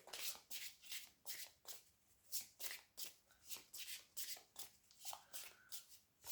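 A deck of tarot cards is riffled and shuffled in quick repeated bursts, crisp papery flutters recurring about twice a second, close and clear with no talking.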